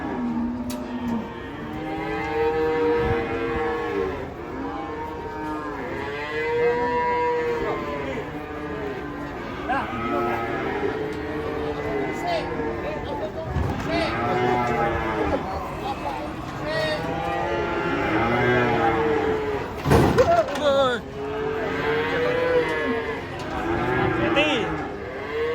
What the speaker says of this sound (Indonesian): Penurunan sapi ngamuk guys.